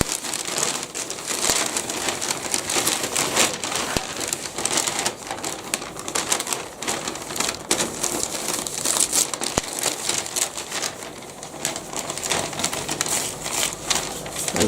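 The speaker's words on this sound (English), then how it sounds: "And me opening this big present" A big present wrapped in Spider-Man gift paper is torn open, giving a long run of loud, continuous paper crinkling and ripping with sharp crackles throughout.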